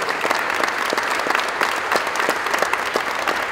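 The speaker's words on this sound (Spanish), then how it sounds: "Un aplauso para los que se quedan toda la noche, para los que están cuando no lo ven." An audience at an opening event gives dense, sustained applause, steady and loud throughout with many overlapping claps and no talking over it.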